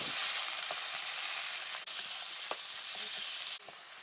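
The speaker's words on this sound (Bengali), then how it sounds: "এবার আমি সমস্ত উপকরণগুলোকে কষিয়ে নিচ্ছি" Spices and chilli powder sauté in a hot pan with a steady, close, loud sizzle, broken by a few brief scrapes and knocks of a spoon stirring, and no talking.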